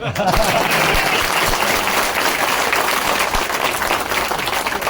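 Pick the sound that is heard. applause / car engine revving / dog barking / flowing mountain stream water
applause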